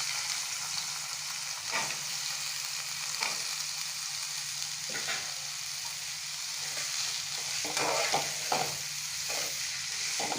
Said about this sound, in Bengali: এবার আলুটা একটু ভাজা ভাজা করব।